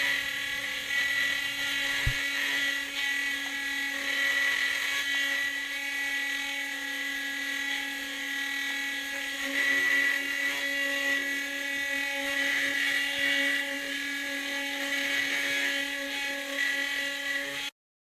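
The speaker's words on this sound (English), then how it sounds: "tonight we are spinning a 6-pole magnetic rotor" A magnetic motor rig spins a 6-pole magnetic rotor with a steady high whine and layered tonal hum, close and constant for the full stretch before cutting off abruptly at the end.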